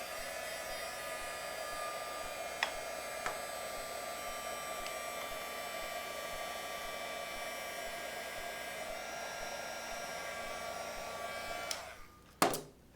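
A hair dryer blows steadily on white Kroma Crackle paint, a constant close whooshing hum for most of the clip before it switches off near the end.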